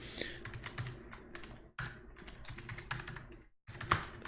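Rapid typing on a computer keyboard during web development work: a quick, steady patter of key clicks with two short pauses, fairly quiet and close, with no talking.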